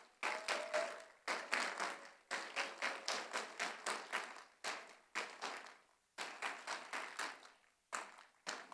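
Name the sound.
audience applause at closing ceremony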